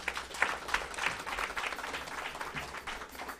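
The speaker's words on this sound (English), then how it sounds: "Please, let's give him a round of applause." A church congregation applauds, steady scattered clapping at moderate distance, fairly soft and continuous throughout.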